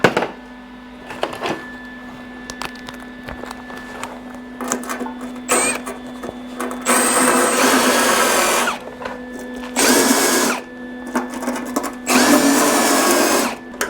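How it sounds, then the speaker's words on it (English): A drill-mounted wire brush scours holes in a car firewall, with short bursts of loud, buzzing whine that start and stop several times amid quieter pauses and clanks. "they're burning in much better now that I ran the wire brush on them"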